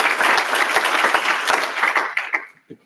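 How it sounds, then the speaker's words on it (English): Audience at a membership meeting applauds steadily and fairly close, a dense wash of clapping that thins and fades out over the last half second. "They're clapping for you, Mike."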